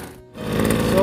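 A Kisan Kraft KK-P768 portable power sprayer's small engine catches after a pull start and settles into a steady, buzzing idle that grows slightly louder.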